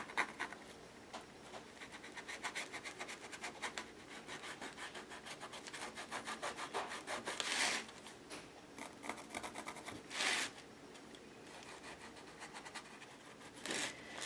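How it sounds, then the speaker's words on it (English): A sanding block rubs back and forth across a surface in quick, rhythmic scratchy strokes, close and fairly quiet, with a few louder sweeps. "Bring in my sanding block, knock down those markings."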